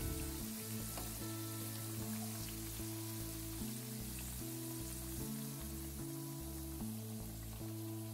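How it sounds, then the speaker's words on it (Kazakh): Carrots, potatoes and eggplant fry in oil in a pan for maqluba, giving a steady close hiss and crackle that runs without a break. A low rhythmic pulse sits underneath, and nobody talks. "Енді табамызға майымызды құйып, сәбізімізді, картоп, баялдынымызды майға екі жағын қуырып аламыз."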